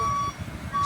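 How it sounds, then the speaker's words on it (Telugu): An APSRTC bus at the Kota bus stand sounds its reversing alarm while pulling out: two loud, close electronic beeps with a brief gap between them, over a low engine drone. "బస్సు బయలుదేరుతుంది,"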